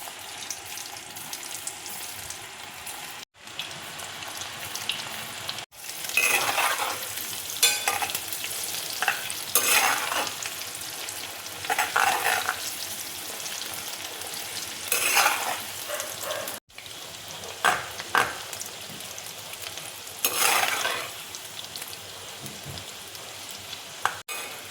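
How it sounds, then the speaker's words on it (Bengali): Kabuli chickpeas frying in hot oil in a wok make a steady, close sizzle, swelling in bursts as pieces are stirred or dropped in, and no one talks. "এবার আমি কাবলি ছোলাগুলো এক এক করে তেলের মধ্যে ছেড়ে দেবো"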